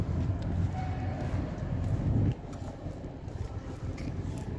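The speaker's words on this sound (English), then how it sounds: "another 156 coming in, I believe, from Skegness" A Class 156 diesel train arrives at Nottingham station from Skegness, a low continuous rumble of engine and wheels that stays steady at moderate distance, with no talk over it.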